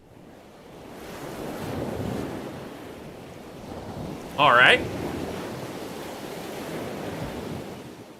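Ocean waves from the intro of a song, a soft wash of surf and wind rising and falling, with someone briefly speaking over it.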